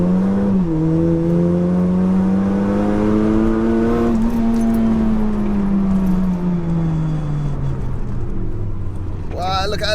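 Race cars, including a 607 bhp SEAT Leon Cupra, sliding around a circuit, with a loud, steady engine note that climbs and then sags as one car drifts sideways, while a voice talks over it.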